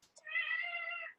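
A cat gives a single drawn-out meow of about a second, clear and close in an otherwise quiet indoor room.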